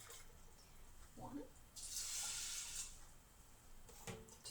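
Water poured from a kitchen water filter, a short faint trickle followed by a brighter splashing pour into a vessel, with a voice murmuring quietly around it.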